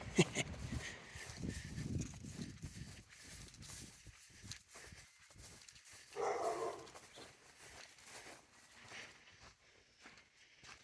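A dog barks a few times at a distance, loose and irregular, amid outdoor background noise and some shuffling footsteps in a backyard.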